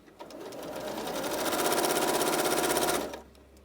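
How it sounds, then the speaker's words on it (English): A sewing machine stitches straight down a side seam through fabric stiffened with starch, sewn with black thread. The needle pounds out a fast, even, close-up chatter for about three seconds and then stops abruptly. "one thing you will notice with fabrics that have been starched with crisp is that they sometimes make a funny noise, and that's just the starch, the needle going through the starch"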